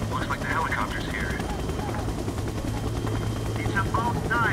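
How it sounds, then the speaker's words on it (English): A helicopter arrives in the video game Splinter Cell: Double Agent, its rotor a loud steady low throb filling the scene while voices speak over it. "Looks like the helicopter's here."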